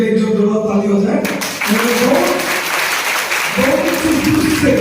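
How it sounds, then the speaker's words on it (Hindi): A crowd applauds loudly and continuously at a Chhath Puja inauguration ceremony, dense clapping throughout with a voice talking over it near the start and end. "उनके लिए जो जोरदार ताली हो जाए"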